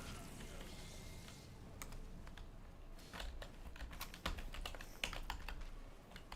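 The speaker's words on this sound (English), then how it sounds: "the keyboard clacking too loud" Computer keyboard clacking loudly under a PC game session, a dense run of sharp, uneven keystrokes close to the mic with a few heavier clicks standing out toward the end.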